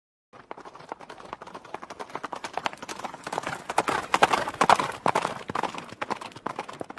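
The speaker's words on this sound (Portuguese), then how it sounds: "O cavaleiro preto galopava sobre a terra." Dramatized hooves of a horse gallop across earth in a rapid, continuous clatter that builds in loudness, close and busy, with no talk over it.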